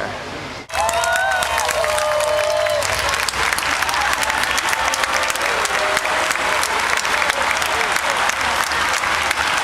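Dense applause with scattered cheers and whistles from a large roadside crowd along the Champs-Élysées as the Tour de France passes, loud and sustained, with voices shouting throughout.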